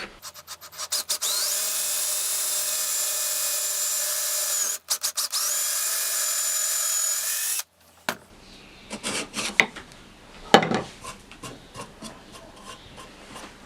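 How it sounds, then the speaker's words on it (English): A power drill bores a bolt hole through a plywood fence with a scrap piece underneath, a loud steady whine for several seconds, briefly interrupted, then stopping, followed by scattered knocks and wood handling nearby. "So that's the hole for the bolt drilled."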